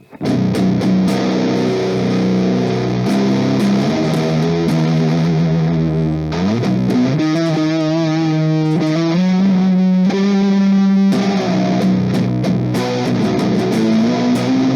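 Electric guitar on the neck pickup played through a modified Boss Metal Zone distortion pedal, loud and continuous with sustained distorted chords shifting into a run of single notes, with no talking.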